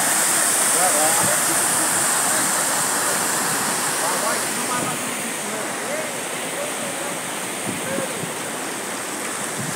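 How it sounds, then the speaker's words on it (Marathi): Water pours over the spillway of Khamkarwadi lake and falls below in a continuous, loud, broad rushing roar, steady and close for the whole stretch. "हे पाणी इथनं सरळ पुढं जाते आणि या बाजूला खाली पडते"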